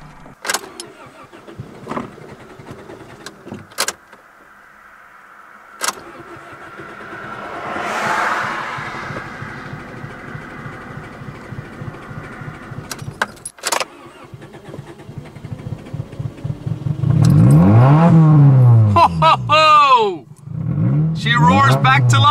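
A car running on chocolate milk instead of oil, after stalling, cranks and fires back up, then revs loudly with rising and falling engine tones, close by, amid scattered clicks and handling noises.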